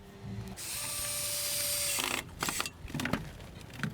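A power driver whirs steadily for over a second as it drives screws through picket fence rails into the posts, followed by a few sharp clicks and knocks of handling.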